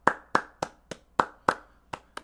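Eight sharp hand claps sound in an uneven, slightly spaced rhythm, close and clear with nothing else behind them, given for Angelic Layla during an indie game club stream.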